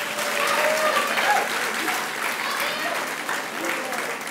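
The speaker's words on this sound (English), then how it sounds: "So give yourselves a round of applause for that" A crowd at an eighth-grade commitment ceremony claps and cheers in a continuous, even burst of applause, with whoops and voices mixed into the sound throughout.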